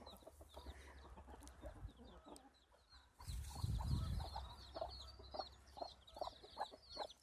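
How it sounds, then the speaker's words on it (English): Chickens and small chicks on a hobby farm, steady high peeping from the chicks over low clucking from the hens, fairly close and continuous, getting busier and louder in the second half. "There's those chicks again."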